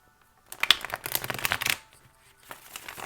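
Tarot cards being shuffled by hand: a quick run of crisp riffling and slapping lasting over a second, then a short burst of card sounds. It is close and clear, with no speech.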